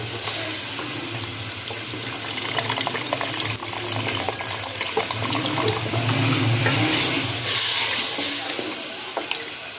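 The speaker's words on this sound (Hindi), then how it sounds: "मैंने 1 गिलास पानी ऐड किया, इसको मिक्स करूँगी।" Water from a glass added to a chicken and egg curry and stirred in the pot, a steady gushing and sloshing wash of liquid that swells and continues for several seconds, close and fairly loud, with no talking.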